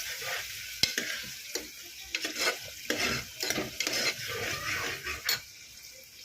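Onions, curry leaves and green chillies fry with garlic paste for chana masala curry, a loud close sizzle with repeated metallic scraping and clanks of a spoon stirring the pan, with no talking.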